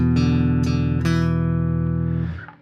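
Guitar playing a single-note 12-bar blues phrase with a doubled open D on the 4th string: three clear plucked notes ringing into one another, close and clean, then fading out at the end with no talking.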